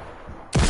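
A sudden, loud burst of gunfire from an online multiplayer video game cuts in abruptly after a moment of low background noise and continues to the end.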